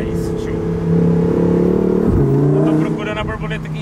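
Lamborghini Huracán V10 engine revving hard, a loud sustained close roar with a dip and rising pitch shift midway, then settling into a steady drone.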